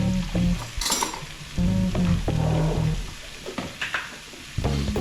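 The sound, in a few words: stirring corned beef, mince, garlic and onions in a pan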